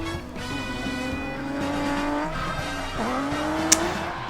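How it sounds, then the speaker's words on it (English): A drift car at a Lone Star Drift competition round swings in on an e-brake entry, then the engine roars back on the gas with tires squealing, a loud sustained rising engine note and tire noise throughout. "Blue car had a e-brake entry right there, but then got right back on the gas."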